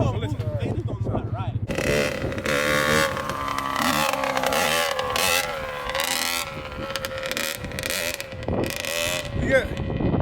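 A dirt bike engine revs and whines up and down nearby under wind buffeting, while people talk loudly over it.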